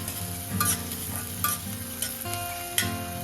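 Onions sauté in a pan, a continuous sizzle with a few scraping stirs of a spatula at intervals, close and clear with no talking.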